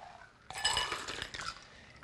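A shaken brandy Berrissimo mixed drink poured into a glass, a short splashing pour with light clinks of ice against the glass, quiet and close, starting abruptly and fading into a soft trickle.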